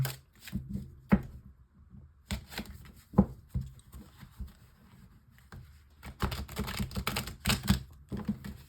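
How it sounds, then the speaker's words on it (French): Tarot cards being shuffled and dealt for a nine-card mythic tarot spread, heard as close, crisp riffling bursts and papery flicks separated by quiet pauses, with no voices. "nous prenons le tarot mythique pour un tirage en 9 cartes"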